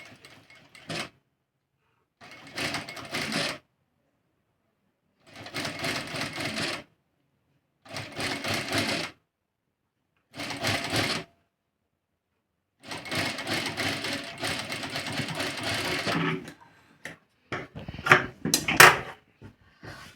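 A sewing machine stitches piping onto a square neckline in bursts of steady whirring, separated by short pauses, close and alone, with a few light clicks near the end.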